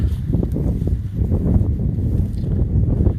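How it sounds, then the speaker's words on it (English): Spring night wind gusting through woodland trees, a loud, close rumbling blow with buffeting on the microphone, continuous throughout and without talking. "Wind is kicking up now. You can probably hear it."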